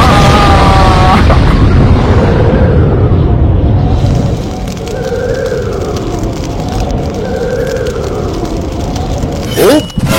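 A cartoon booger-bomb attack goes off with a loud boom and rumbling blast that decays into a lingering whooshing, crackling tail, ending with a brief sharp swish.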